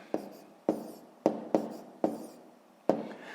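A pen writes numbers on paper in six quick, distinct scratchy strokes, close and fairly quiet, each one sharp at the start and fading fast.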